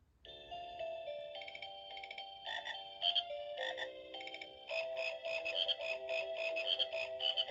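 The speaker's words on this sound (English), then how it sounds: "there's only space for 3 frogs that sing Jingle Bells in this town" A singing frog Christmas decoration croaks out Jingle Bells in electronic tones, a bright, tinny melody of ringing notes played close and clear for several seconds, with no one talking over it.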